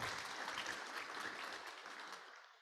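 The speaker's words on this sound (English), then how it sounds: "You can applaud that." An audience at a Rotary Club weekly hybrid meeting applauds, a steady patter of clapping that is faint and distant, fading out at the end.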